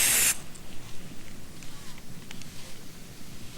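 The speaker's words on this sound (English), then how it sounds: "spray a little more in the center there" Oven cleaner is sprayed onto aluminum in one short loud hiss at the start, followed by a faint bubbling fizz under quiet background noise.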